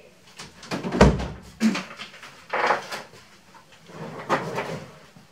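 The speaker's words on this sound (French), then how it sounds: "Je vais fermer la porte." Indoors, a door is swung shut with a few wooden knocks and thumps, one sharper bang near the start followed by softer handling sounds, all close and fairly loud.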